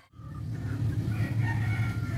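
A Black Australorp rooster crows loudly and close by, one sustained call with steady low background noise throughout.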